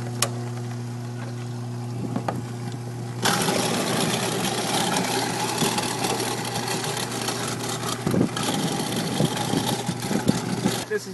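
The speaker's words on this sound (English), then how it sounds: "This is a 3/4 horsepower in-sink aerator. Take a look down here as I'm grinding." A 3/4 horsepower in-sink aerator starts running and grinds steadily, giving a loud, continuous motor drone and churning roar after a quieter steady hum at the start.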